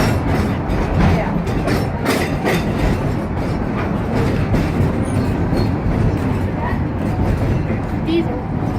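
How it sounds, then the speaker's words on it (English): A steam locomotive climbing a hill on a loop line, its steady rumbling roll and rhythmic clatter of wheels over the rails holding close and loud throughout, with voices faintly mixed under the noise. "our steam locomotive just burned 500 gallons of water just going up the hill"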